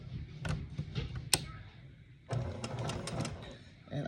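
A sewing machine stitches quilt sashing onto blocks in short bursts of rapid mechanical chatter, starting and stopping with a quieter pause mid-way, close by and moderately loud.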